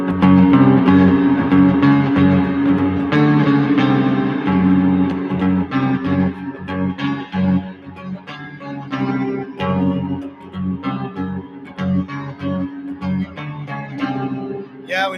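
Played through reverb and chorus effects, an electric guitar riff rings out in clean, shimmering ambient notes that layer and sustain continuously, with washy echoing tails between phrases.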